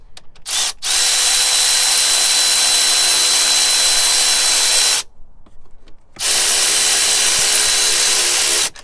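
Air-powered tool running off a home-rigged compressor on a BMW 335i E90 front strut, a loud steady whir with a brief start, a long continuous run, a pause of about a second, then another sustained burst.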